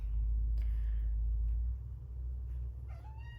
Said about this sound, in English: You hear my little kitty.